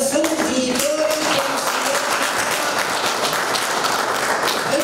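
Audience applause at a swearing-in session for a new mayor and local councillors in the commune of Poduri, Romania: steady, dense clapping from a crowd indoors, with some voices mixed faintly underneath throughout.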